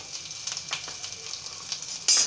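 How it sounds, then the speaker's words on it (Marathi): Thinly sliced onion hits hot oil in a pan for egg masala curry, giving a busy crackling sizzle with light stirring clatter and a louder burst of spitting at the very end; no one speaks. "तेल छान गरम झालेले आहे एक वाटी कांदा टाकायचा उभा पातळ चिरून"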